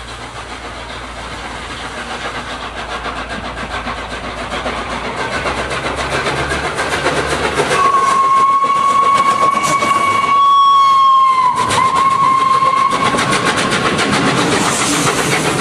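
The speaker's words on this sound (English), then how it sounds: "because the Flying Scotsman passed." The steam locomotive 60103 Flying Scotsman rumbles past with a rising mechanical roar, and a long, steady whistle-like tone rings out over the passing noise.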